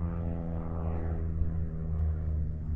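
An airplane passes by below a mountain road, a steady droning engine hum with a low propeller rumble at moderate distance, heard alone without talk.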